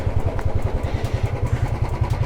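A motorcycle engine on a winter mountain ride near Gangotri thumps in a steady, close, rhythmic idle beat as the bike pulls up to a temple gate.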